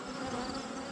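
Honey bees buzzing around an open hive during an inspection, a dense, steady swarm drone that is close and fairly quiet, continuous for the whole second with no talking.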